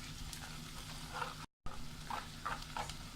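Onion and garlic sautéing in a pan for chicken green peas curry, giving a soft, steady sizzle with faint stirring scrapes and a brief gap of silence midway.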